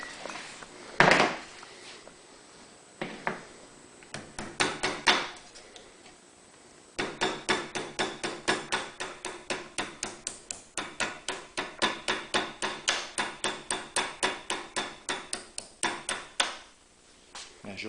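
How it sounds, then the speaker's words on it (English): Metal is tapped down gently on top of a vise with a hammer, making a long run of steady, evenly spaced light taps. Sparse, irregular knocks come first, then the tapping settles into a regular rhythm. "now I'm going to lay it on the top of the vise and just start tapping this down gently"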